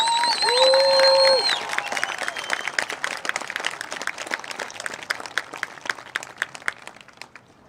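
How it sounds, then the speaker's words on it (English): Crowd applause and cheering for the senior class at a high school football game, Tonganoxie Chieftains versus Ottawa Cyclones. A loud burst with whistles opens, then dense clapping gradually thins and fades. "let's have one more round of applause for this incredible class of seniors"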